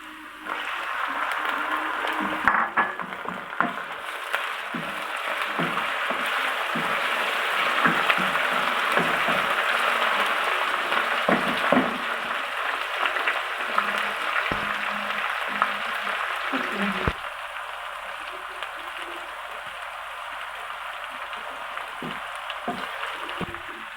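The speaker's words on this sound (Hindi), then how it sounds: "अब हम इसमें चिकन डालेंगे, वो फ्राई करेंगे" Chicken sizzling as it fries in a pan with browned onions, a steady hiss with scattered clicks and clinks of a utensil stirring, heard without talk at moderate loudness.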